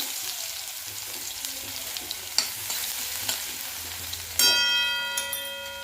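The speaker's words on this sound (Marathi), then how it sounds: "तेल छान गरम झालेलं आहे जिरे मोहरी टाकून घेऊया" Cumin and mustard seeds hit hot oil for a Marathi toor dal varan, sputtering in a continuous close sizzle with small pops, then a bright ringing metallic clink near the end.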